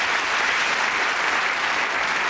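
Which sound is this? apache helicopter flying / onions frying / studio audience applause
studio audience applause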